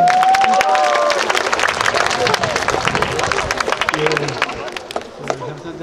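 A crowd applauding at a statue unveiling ceremony: dense, continuous clapping from many hands with a murmur of voices, loud at first and gradually thinning toward the end.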